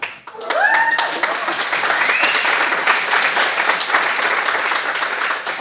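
An audience claps together at a community event on LGBTQIA+ mental health, a dense, sustained round of applause close by that follows a brief voice at the start and runs on steadily.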